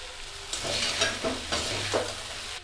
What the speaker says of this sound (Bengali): সিদ্ধ করা চাউমিন দিয়ে দেব নুন দিয়ে দেব অল্প করে সয়া সস টমেটো সস